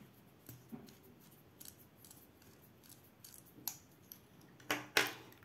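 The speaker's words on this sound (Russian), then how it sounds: "Разбираем, ручку сравниваем с оригиналом." Clicks and snaps of a cheap copy of a Xiaomi Mijia pen being taken apart, sparse light plastic and metal ticks with a brighter cluster of sharp clicks near the end, close and quiet with no talk.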